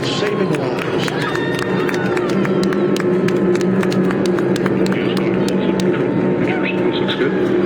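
GOES-R satellite rocket lifting off, a sustained heavy roar with crackling bursts throughout, heard under a launch commentator's voice.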